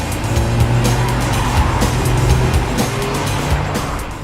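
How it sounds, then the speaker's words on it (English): An Audi S1 Sportback with a 2-litre TFSI four-cylinder engine accelerates hard, its loud engine roar joined by squealing tires throughout, close and continuous. "Wow, this Audi S1 really moves."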